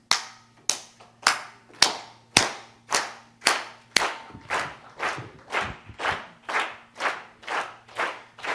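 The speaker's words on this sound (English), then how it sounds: "I'm gonna need everybody to do a steady clap like this." An audience at a Bashar Darryl Anka talk claps in unison at a steady beat. About fifteen sharp, even claps sound roughly every half second, loud and close, with no talking.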